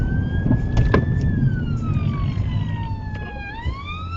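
An emergency vehicle siren wails steadily and loudly on a road, its pitch sweeping slowly down and rising again as it passes, heard from inside a driving car over the engine and road rumble.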